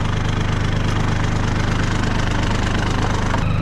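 A tractor engine runs steadily at idle close by with a low, even throb and knocking pulse, during the unhitching of a plough in a field, with no talk over it.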